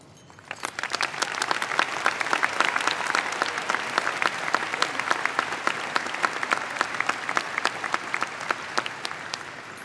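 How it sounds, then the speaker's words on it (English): Sustained applause from a large crowd at a high school graduation, many hands clapping steadily after a quiet start, holding at a full, even level throughout. "Let us congratulate both with our applause"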